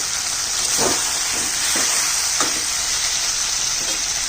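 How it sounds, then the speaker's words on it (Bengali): Mutton curry in a pan, with water and fried potatoes just added, gives off a steady, loud hiss and sizzle with a few soft bubbling pops throughout. "এইভাবে আমি মাংসটা ভালো করে কষিয়ে নিচ্ছি।"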